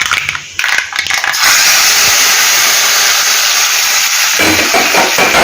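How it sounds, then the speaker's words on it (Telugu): Hot tempering of dried red chillies, mustard seeds, fenugreek and asafoetida hits a red amaranth tamarind stew: a brief clatter, then a sudden loud, steady sizzling hiss that holds for several seconds with no talking. "పులుసులు పోపు పెడితే అలా సౌండ్ రావాలి"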